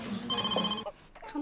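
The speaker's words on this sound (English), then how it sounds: "Somewhere. The phone." A telephone rings in a busy doctors' surgery, a bright electronic trill in the first part, with voices talking over and after it.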